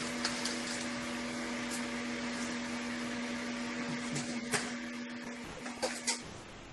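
A steady mechanical drone with a constant tonal hum, like a running vacuum cleaner or a toilet, leaks through an open line on an online faculty call. It is moderately loud and continuous, with a few brief knocks near the end.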